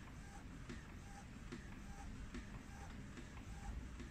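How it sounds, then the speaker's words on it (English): An Epson XP-2100 inkjet printer fitted with a 603XL continuous ink system prints an A4 sheet, giving a steady, quiet mechanical whir with faint periodic clicks of the moving carriage. "this print will be take around 1 more minute"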